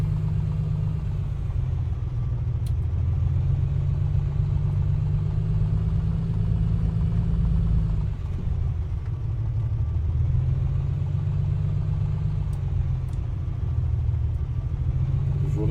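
Comanche 250 piston aircraft engine rumbling steadily while taxiing in a flight simulator, a continuous low drone with slight swells in pitch and no voices over it.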